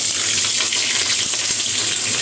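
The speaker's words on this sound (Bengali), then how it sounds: "ডিমের মধ্যে জল ছিল মনে হয়, ওই জন্য এরকম ফাটছে" Eggs fry in hot oil with a loud, dense, continuous crackle and hiss close by, steady and unbroken, the spattering sharpened by water inside the eggs.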